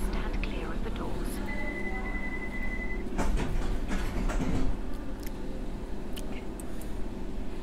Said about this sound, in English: This train is ready to depart. Please stand clear of the doors.